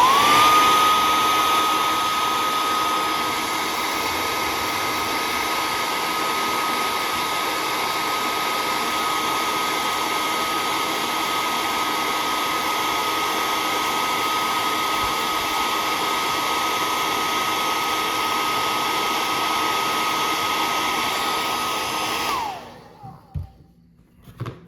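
A heat gun blows in a steady, loud whoosh with a faint high whine as it warms stiff action figure joints, running continuously for over twenty seconds before cutting off abruptly near the end.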